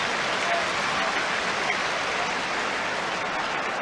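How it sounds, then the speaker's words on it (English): A large football crowd at a Nottingham Forest versus CSKA Sofia European Cup match applauds goalkeeper Shilton's save, a dense, steady roar of clapping that fills the stadium and continues without a break. "The applause from the crowd was for Shilton's save."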